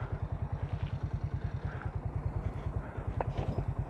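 A motorcycle on its first ride after half a year off, with something on it knocking, rolls out through a small yard gate. Its engine thumps in a steady, close, low pulse, with a brief clatter near the end.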